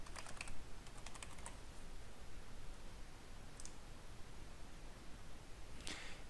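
Computer keyboard typing as login details are entered: bursts of quick, light key clicks near the start, then sparse single taps, soft and close over steady background hiss, with no voices.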